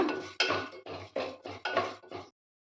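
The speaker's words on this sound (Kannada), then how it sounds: "ಹೆಸರುಬೇಳೆನ ನಾವು ಈ ತುಪ್ಪಕ್ಕೆ ಆ್ಯಡ್ ಮಾಡ್ಕೊಳ್ಳೋಣ ಸೊ ಇದನ್ನು ಹುರ್ಕೊಳ್ಳೋಣ" Moong dal roasts in ghee in a pan for sweet pongal, stirred with a metal spoon in six or seven scraping, clinking strokes, close and moderately quiet, then silence.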